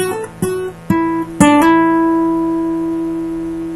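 Guitar notes played with a barre and a hammer-on: a few quick plucked attacks followed by one note left ringing and slowly fading, clear and close.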